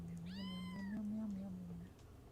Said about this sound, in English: I love that cat.